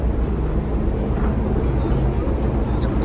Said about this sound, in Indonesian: berisik karena dekat knalpot nih suaranya